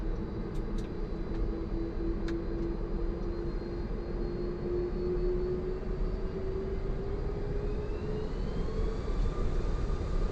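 An Iberia airliner takes off from Johannesburg, heard as a steady, fairly faint engine roar with a slowly rising whine throughout.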